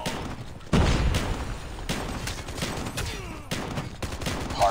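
Rapid bursts of gunfire from a weapon in Call of Duty Mobile, loud and near, firing in repeated strings separated by brief pauses, with battle noise underneath.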